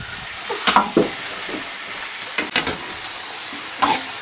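Chicken stir-fried in a hot wok with oil makes a continuous sizzle, broken by several scraping spatula strokes and tossing clatters close by, without speech.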